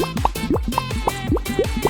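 Bubbles popping underwater in a rapid, irregular run of bright plops and gurgling blips, close and clear with no other sounds.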